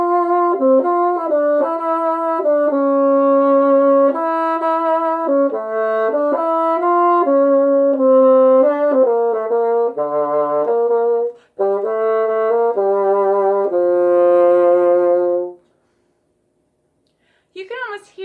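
Solo bassoon plays the second part of Handel's Sarabande, a slow legato melody of sustained reedy notes, close and alone, with a short breath break before the final phrase and a stray sound at the very end.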